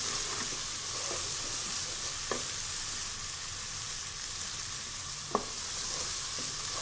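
Whole spices and a cinnamon stick gently cooking in oil in a pan, a steady soft sizzle and hiss with a couple of faint clinks of a spoon stirring, no voices.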